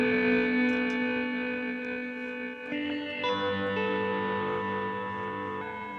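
A guitar run through the ring modulation effect of a BOSS GT-1000 Core gives sustained, metallic, bell-like tones that shift pitch a few times, close and moderately loud with no talking.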